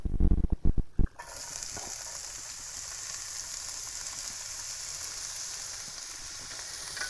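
Anaheim pepper and chopped onions sizzle steadily in hot olive oil in a pan, a continuous close hiss with faint crackles that begins after a second of clattering and stays even to the end.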